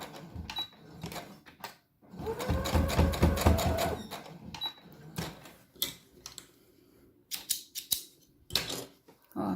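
A sewing machine stitches a safety seam on a fabric paintbrush roll, a dense run of rapid rhythmic clatter lasting about two seconds, set between scattered clicks and handling knocks nearby.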